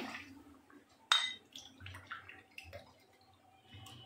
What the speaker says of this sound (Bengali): এই 4 কাপ জল দিলে একদম সুন্দর হবে, ঝরঝরে পোলাও হবে।